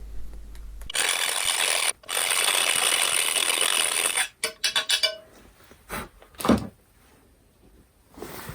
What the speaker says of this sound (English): I need to grind it out a little bit more for these wheels.